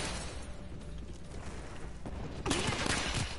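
Gunfire in the Call of Duty: Black Ops 3 multiplayer video game, a low steady rumble of distant shots that swells into a louder, closer burst of several cracks near the end.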